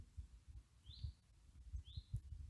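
Birds call outdoors during a summer open-air group meditation: two brief, faint, high chirps stand out over a soft, uneven low rumble of wind.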